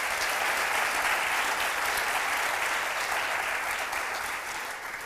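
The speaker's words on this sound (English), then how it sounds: "could we have a round of applause?" Steady, full applause from a large audience at a scholars luncheon, an even roar of many hands clapping that holds for several seconds before easing slightly.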